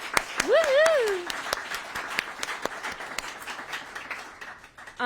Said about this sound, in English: Let's give Emily a huge round of applause.